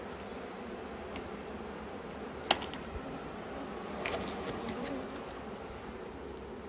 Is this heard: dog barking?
no